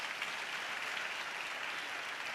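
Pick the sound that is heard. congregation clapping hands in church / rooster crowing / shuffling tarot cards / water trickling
congregation clapping hands in church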